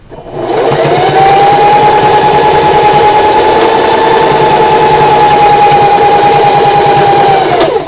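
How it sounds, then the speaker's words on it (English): A sewing machine back stitching with the presser foot down runs steadily for several seconds with a continuous mechanical whir, close and loud, starting and stopping cleanly without pauses. "put your presser foot down, needle down, and we're going to back stitch a couple times"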